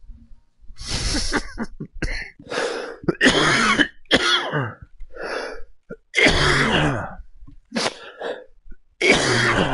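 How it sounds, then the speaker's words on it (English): A person coughs and clears their throat repeatedly at close range, in rough, irregular bursts separated by short pauses, with no speech. "Coughed."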